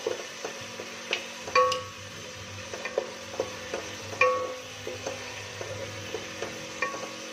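Masala spices frying and stirring in a pan for a turnip and spinach curry, a steady soft sizzle under frequent scraping spoon strokes and occasional metallic clinks against the pan.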